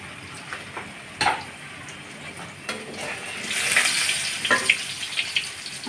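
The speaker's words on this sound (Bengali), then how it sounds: "আমি এখন আলুগুলো লাল লাল করে ভেজে নেব আলুগুলো দিয়ে দিচ্ছি" Potatoes sizzle as they fry in soybean oil in a wok. The hiss is soft to moderate, with a few sharp crackles and spatters that build and grow busier toward the end.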